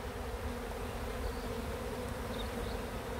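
Honeybees buzzing around a hive, a soft, steady droning hum that stays constant and fairly faint throughout, with no voices.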